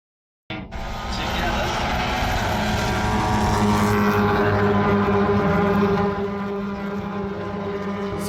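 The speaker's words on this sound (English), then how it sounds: "So this was the Michelin Pilot Challenge race." Race cars at the start of a Michelin Pilot Challenge race at Watkins Glen, a loud continuous roar of many engines after a brief silent lead-in, sustained throughout with slight fading near the end.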